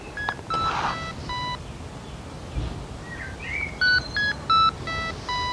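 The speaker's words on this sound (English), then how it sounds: "Now that's the tune, that's the charging tune." A Sonic Pathfinder device plays its charging tune: a sequence of short, clean electronic beeps in shifting pitches, some clustered early and others spaced in a rising-and-falling pattern near the end, fairly quiet against faint background hiss.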